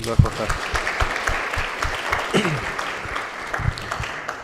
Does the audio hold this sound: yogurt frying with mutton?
no